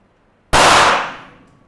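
A glass Krakatoa tube bursting apart into tiny shards: one sudden, very loud sharp crack that rings and decays over about a second, with no voices.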